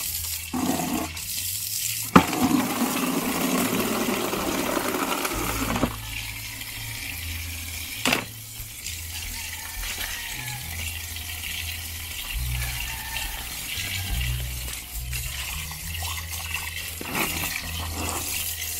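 Strong running water at a resort gushes loudly and continuously, a steady rushing flow with a few splashes and knocks, no talking.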